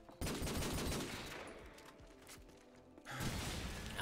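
Gunfire in a video game aimed at the player, arriving as dense, loud bursts of rapid shots that ease briefly midway before a heavy barrage returns.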